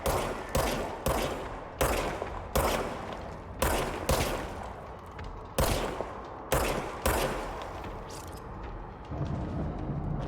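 Automatic gunfire in the video game Control rattles in repeated short bursts, about a dozen loud volleys with brief pauses between them, close and dominant with no talk.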